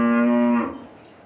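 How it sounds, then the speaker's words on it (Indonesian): A cow gives a single loud, steady moo nearby, a sustained low tone lasting about half a second before breaking off and trailing away into quiet background noise. "Maaf, ada suara sapi."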